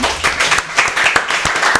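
Audience members at a school quiz contest clap loudly in a brief burst of applause, close and dense, with rhythmic swells and no talking over it.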